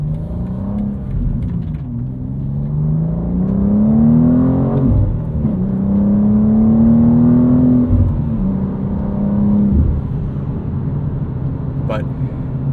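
2025 BMW M2 with a 473 hp engine and 6-speed manual accelerating through its gears, the engine note climbing and dropping at each shift under loud, close talk.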